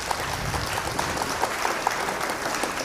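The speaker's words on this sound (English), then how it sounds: "I'll have to give him an applause on that one." Applause in a pool hall after a great shot in a challenge match, a steady, moderately loud clapping that lasts a few seconds with no talking over it.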